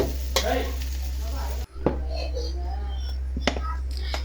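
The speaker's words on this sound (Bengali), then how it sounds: "দেখেন আলুগুলো ভাজা হয়ে গেছে কত সুন্দর ভাবে" Potatoes fry in hot oil in a kadai, with a steady close sizzle and occasional scraping stir strokes. There is a brief drop partway through, then the sizzling resumes.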